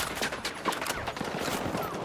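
Bursts of rapid gunfire from the Battlefield 6 video game in a street battle, dense overlapping shots crackling continuously without pause, loud and close throughout.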